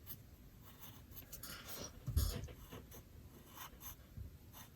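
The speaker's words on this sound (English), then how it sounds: "I'm just gonna draw them going down." Pencil scratching on paper while sketching Godzilla and Kong, soft close strokes in short uneven bursts with a brief louder bump midway, no speech.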